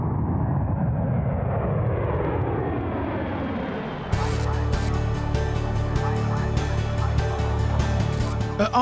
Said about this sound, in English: the C-17 touches down after a 9-hour flight from Kandahar